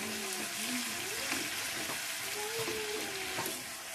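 Whole spices sizzle in hot oil with cooked ginger-garlic paste, a steady close frying hiss with faint stirring scrapes, no speech.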